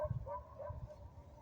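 Dogs bark in a few short, faint yips and woofs that sound fairly distant, with no talking over them.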